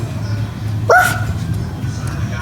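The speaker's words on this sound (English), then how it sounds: "Dog. Dog." A single short dog bark or yip rises sharply from steady low background hum, brief and fairly close.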